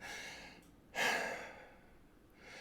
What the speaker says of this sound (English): take a second deep breath